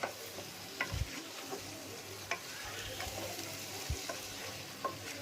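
Fish curry being stirred in a pan over a high flame, a constant frying sizzle with several distinct scrapes and knocks of the spoon against the pan, close and fairly soft, no speech.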